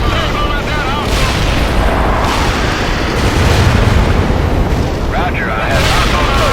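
Artillery fire in the World in Conflict video game, a dense run of heavy booms and rumbling blasts that stays loud throughout, with radio-style voice chatter over it.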